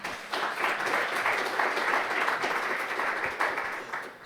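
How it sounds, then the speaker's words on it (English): Audience at a security engineering talk applauds steadily for about four seconds, a dense, even patter of many hands clapping at moderate loudness with no one speaking over it. "Can we have another round of applause for his first international?"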